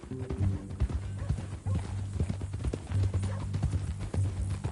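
Horse hooves clip-clop steadily in Red Dead Redemption 2 gameplay, a close, even walking rhythm with a few faint whinnies, under a low ambient hum.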